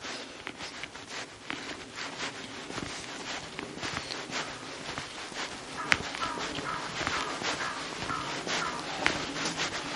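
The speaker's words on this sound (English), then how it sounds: "You can hear a few birds" A few crows caw in the distance over the steady rhythm of nearby footsteps and rustling clothing, in Hooton village, South Yorkshire, England.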